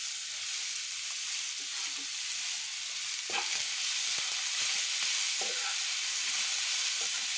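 Carrot is tossed into sautéing onion and capsicum for a street-style veg roll filling: an even, continuous sizzle with a few light stirring knocks partway through.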